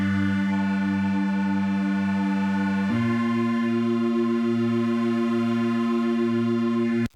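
A layered synth bass from a UK garage preset holds a steady, sustained low tone with bright upper harmonics, shifting pitch once partway through and running loud and alone for about seven seconds before cutting off abruptly.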